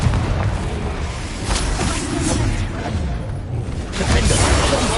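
Confringo spell explosions in the video game Hogwarts Legacy, a series of deep booming blasts and bursts layered with whooshes, loud and continuous across the stretch, building again near the end.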